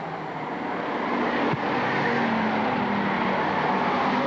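Bomber-class race cars roar around the oval at Lakeport Speedway during a main event, a steady loud engine drone from several cars running side by side, with no pauses.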